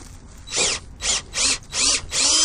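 A power drill bores through flooring during a 2000 W power inverter install, running in five short, loud whining bursts separated by brief pauses, close by with no talking.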